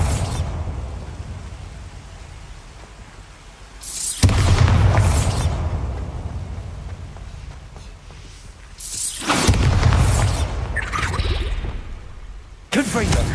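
A Bombarda explosion spell in the video game Hogwarts Legacy sounds as two loud, booming blasts with a whooshing rush, each ringing out and fading over a few seconds, close and forceful.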